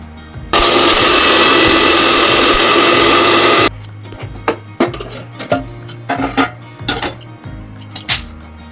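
An electric kitchen grinder pulverises roasted spices, a loud steady whirring roar lasting about three seconds before cutting off, followed by scattered clinks and knocks of the jar and utensils.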